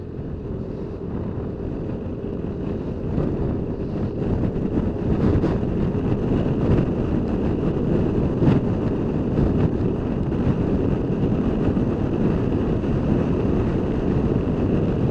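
Strong wind roars steadily and loudly against the microphone while driving, a dense broadband rush that holds at a constant level throughout with no talking.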